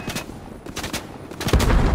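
Gunfire rattles in the Fortnite video game as quick bursts of shots, fairly loud and close, swelling toward the end with no talking over them.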